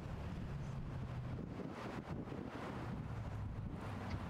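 Strong headwind gusting across an outdoor disc golf course, a steady, loud roar of wind buffeting the microphone throughout with slight swells, no talking.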